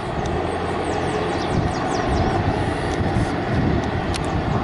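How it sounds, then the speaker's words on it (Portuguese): A large Brazilian Army helicopter flying near Sorocaba airport produces a steady, broad rotor and engine roar at moderate distance, holding constant throughout with faint higher chirps above it. "Não sei qual é o modelo desse helicóptero, mas é grandalhão."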